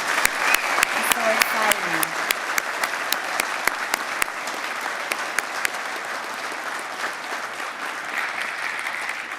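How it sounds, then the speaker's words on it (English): A fire department awards ceremony audience claps for the award recipients, with a few sharp, close claps standing out at first before the applause settles into a steady, fuller wash. "Can you join me with a loud applause for all of those who have received awards?"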